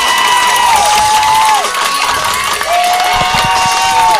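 A large crowd cheers and shouts continuously at a Lady Panthers softball regional final against the Lake Belton Broncos. The noise is loud and sustained, with high whoops and whistles rising above it.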